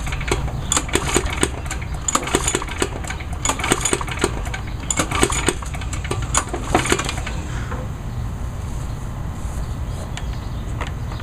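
Gas lawn mowers sputter, catch and run with a loud, rough, rattling engine drone, sharp mechanical clatter over the first half, and a steadier running note afterward, with no talking.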